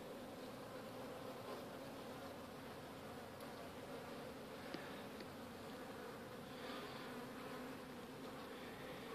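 Honey bees buzzing at an open queenright hive during a split inspection, a dense steady drone of many insects, faint and continuous with no voices.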